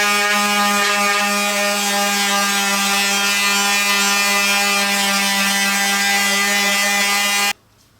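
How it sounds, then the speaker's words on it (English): A power sander works over a wooden tic tac toe board, giving a steady, loud, close buzzing whine that runs unbroken for about seven and a half seconds and then cuts off abruptly. "now we can give the whole thing a good sanding all over."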